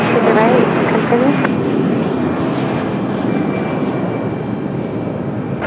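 A fixed-wing airliner's engines roar steadily during a takeoff run on runway 23 right at Raleigh-Durham International, a loud continuous broadband rumble throughout, with faint tower radio chatter.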